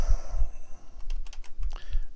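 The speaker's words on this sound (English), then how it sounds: "So now when we hit the keyboard for escape" The escape key and neighbouring keys clack on a computer keyboard in a quick run of several close, crisp clicks after a short quiet start, with no voice.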